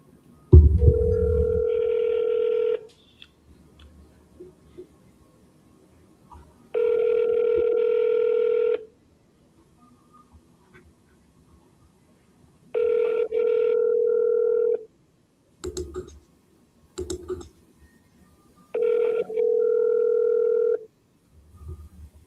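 An outgoing telephone call rings out before reaching voicemail: four evenly spaced electronic ringback tones, each lasting about two seconds with long quiet gaps between them, plus a few short clicks. There is no speech.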